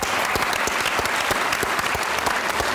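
An audience at a comedy talk show gives a burst of dense, steady clapping to welcome a Pakistani poet, loud and close, with no voices over it.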